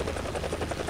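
Helicopter flying in a video game, a loud, close, continuous rotor drone with rapid rhythmic blade pulsing throughout.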